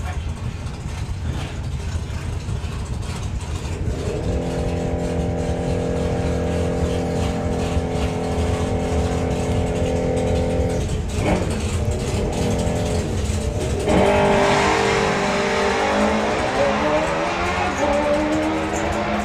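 A drag racing car at a Festival of Power event sits on the line, its engine droning in steady harmonic tones, then launches with a loud surge of revving and roar for the final seconds, against a background of crowd and track noise.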